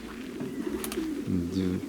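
A racing pigeon hen coos close by in soft, low rolling notes, with a brief flutter-like burst partway through.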